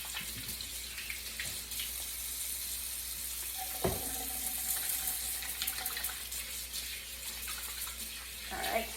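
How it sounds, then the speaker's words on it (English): Running water from a kitchen sink tap as hands are washed under it, a steady broadband splashing hiss throughout with a brief clatter partway through. "I'm going to wash my hands"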